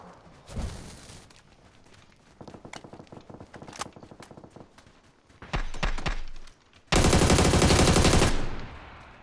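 Gunfire in the video game PUBG on the snowy Vikendi map: scattered single shots and short rattling bursts, ending in a loud sustained automatic burst, with no speech over it.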